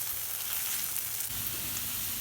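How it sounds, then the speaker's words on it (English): Garlic, ginger and onions fry in hot oil, a steady close hiss and crackle that holds evenly throughout with no talk. "you heat up some oil, you add your garlic and your ginger to it, onions"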